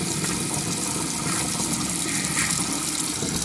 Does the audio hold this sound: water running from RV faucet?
yes